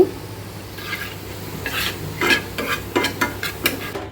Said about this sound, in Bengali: আমি এখন সব শেষে ডালটা বাগার দিচ্ছি। আর ডাল বাগারে আমি শুধু রসুন কুচি দিই